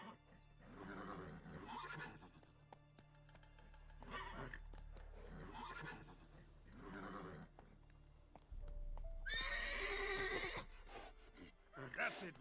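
A horse in The Witcher 3: Wild Hunt neighs and whinnies several times with hoof clip-clops, while a voice speaks now and then over the game sounds.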